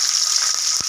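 Mustard seeds, cumin, dried red chillies and green chillies frying in hot oil in a pan, a brief, loud, steady sizzle with a faint crackle.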